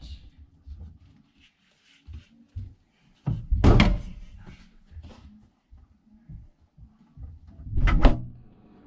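Scattered soft bumps and handling noises, then a fridge door thuds shut, followed by another firm thunk a few seconds later; close and fairly loud.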